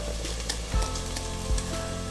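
A garlic and ginger mix sizzles steadily in hot oil in a pan over medium heat, a close, even frying hiss with two dull knocks of a spoon as it is stirred in.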